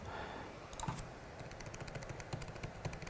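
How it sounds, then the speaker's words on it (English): Arrow keys on a computer keyboard pressed in a few separate clicks over a steady background hiss, close and fairly quiet, with no talking. "I can replace the models by using the arrows on the keyboard"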